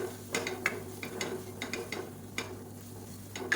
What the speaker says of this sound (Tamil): இது வந்து எண்ணெயில் நல்லா பரட்டி விட்டுக்கணும்